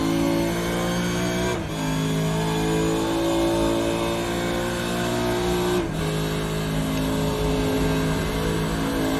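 A Supercar screams flat out at high speed around Bathurst's Mount Panorama in iRacing, its engine note steady and loud, with two brief dips where it shifts gear.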